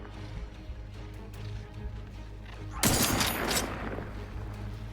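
Gunfire in the video game The Outer Worlds 2 cracks out as a sudden loud burst of rapid shots over a steady low game hum, then fades back down.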